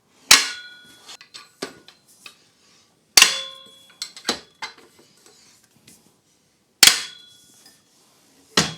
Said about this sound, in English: To unfold the legs, you just need to press that silver stop button here, and that will lock with this click in place